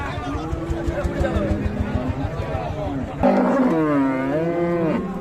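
A Friesian cow moos at a busy cattle market, a long drawn-out low call rising clearly over the crowd for the last two seconds. Before it comes a steady babble of people talking nearby, with rhythmic low thumps underneath.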